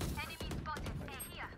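Rapid gunfire in the video game Valorant, bursts of sharp shots in quick succession with a tight rhythmic pattern, heard up close in the game mix with a player talking over the shooting.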